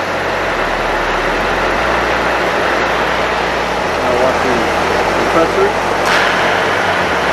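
Car A/C condenser fan whirring steadily with the engine idling, a loud constant broadband rush over a low engine hum, with a person talking over it.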